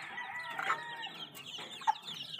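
Elite breeding roosters on a farm crow and cluck, several calls overlapping at moderate distance with a sharper cluck standing out near the end.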